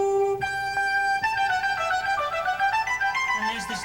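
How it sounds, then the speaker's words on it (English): Two synthesized flute parts play together, clear, pure sustained tones gliding through a melodic line with bright upper notes, moderately loud and unaccompanied by any voice. "There are 2 flutes."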